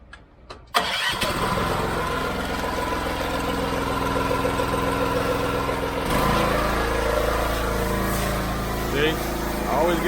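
A WaterBoss WB 750 soft wash gun spraying with its pump engine running: brief clicks, then the engine catches and holds a loud, steady mid-pitched drone with a hissing spray layered on top.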